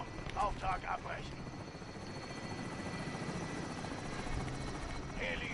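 A helicopter in a video game drones as a steady, low, rumbling whir throughout, fairly faint, with brief voice and radio-like chatter over it near the start and end.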